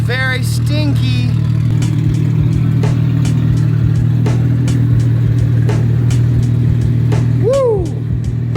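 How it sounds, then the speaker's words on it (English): Straight-piped cars with a Nissan VR38 and an RB engine run in a neighborhood with cold starts and boosting. A loud, steady exhaust drone continues throughout, with a few brief high chirps above it. "I'm sure the neighbors love hearing all these cold starts and me driving and boosting around the neighborhood."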